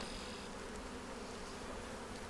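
Honey bees buzz inside an open hive, a dense, continuous droning hum from many insects close by, with no talk.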